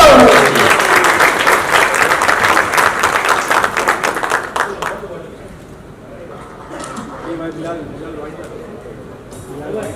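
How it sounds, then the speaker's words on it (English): Audience at a Fujifilm Instax Wide camera launch event applauds loudly with dense, sustained clapping for about five seconds, then it fades into quieter crowd murmur and scattered sounds. "Let's all put our hands together and make a cheer for Karthik Aryan."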